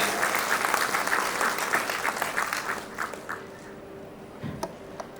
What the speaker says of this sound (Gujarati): તો આ પરિવાર માટે એકવાર જોરદાર તાળીઓ થઈ જાય.